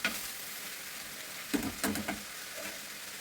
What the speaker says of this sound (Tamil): பாவக்காய் போட்டு கொஞ்சம் நல்லா அந்த எண்ணெயில் நல்லா வதக்கிடுங்க